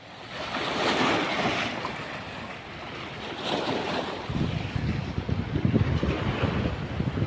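Strong rushing water released from a canal dam toward the sea near Bang Phli, Samut Prakan, a loud continuous roar with heavy wind buffeting the microphone and a turbulent surge building toward the end.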